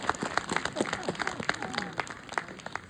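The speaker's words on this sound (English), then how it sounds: "Give him a big round of applause" An outdoor audience at the Dunrobin Castle falconry show in Scotland gives a round of applause, many hands producing sharp, crackling claps in a lively, uneven patter that stays fairly close throughout.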